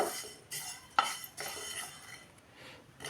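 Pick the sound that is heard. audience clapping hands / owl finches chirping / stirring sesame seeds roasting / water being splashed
stirring sesame seeds roasting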